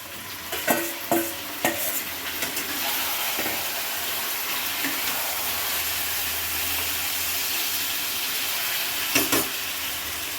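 Marinated chicken pieces tipped into a pan of golden frying onions, a few sharp clatters and scrapes of the spoon at first, then a steady loud sizzle with intermittent stirring knocks near the end.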